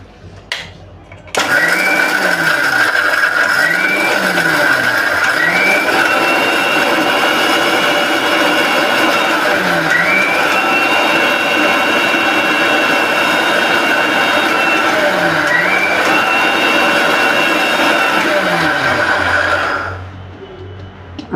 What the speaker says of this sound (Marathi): ही खडी साखरेची पूड आहे ती मग घालून मी फिरून घेते मिक्सरला